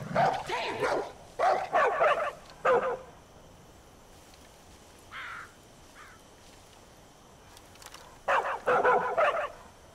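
A dog barks in Far Cry 5, with bursts of loud, close barking at the start and again near the end, and a couple of faint yips between them.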